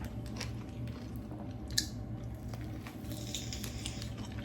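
Someone chews crunchy food close up in a home, with steady crisp bites and mastication over a low background hum and no talking.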